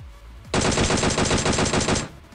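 A DP-28 machine gun in PUBG Mobile fires a loud, close burst of about fifteen rapid rounds in an even rhythm lasting roughly one and a half seconds, then stops abruptly.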